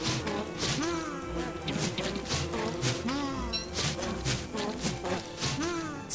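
Repeated melee whacks against bees in the survival video game Don't Starve, a busy run of sharp thwacks and crashes over layered in-game sound, close and fairly loud.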